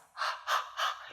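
Three slow, steady yoga breaths drawn with a constricted throat, each an even, airy hiss that swells and fades, close and fairly soft, with no talking.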